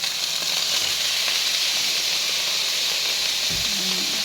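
Liver sizzling and frying in a hot pan, a steady loud hiss throughout with a brief lower clatter near the end, no voices.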